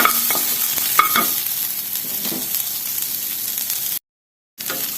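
Onion and capsicum sautéed dry in a pan without oil, giving a soft continuous sizzle with a few scraping stirs near the start and a brief dropout near the end.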